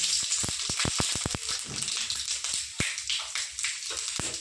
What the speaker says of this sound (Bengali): কড়াই তেল গরম হয়ে গেছে, ফোড়নে দিয়ে দেবো 5 ফোড়ন